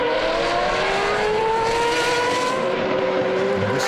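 A race car in the FA1 Acceleration 2014 race at Portimao, Portugal leaves the pit lane, a loud, steady engine drone with rising pitch held throughout.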